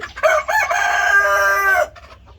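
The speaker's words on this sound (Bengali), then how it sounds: "এই যে মুরগি পানি খাচ্ছে" Chickens drinking water give loud, close clucking calls, a few short clucks running into one sustained, drawn-out vocal call with no talk over it.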